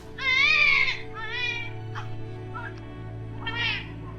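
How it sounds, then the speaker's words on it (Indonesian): A baby's cry at night in a horror drama, heard as several wailing, strained cries with pauses between them, fairly loud and close, set against a low steady background hum. "Ada suara bayi."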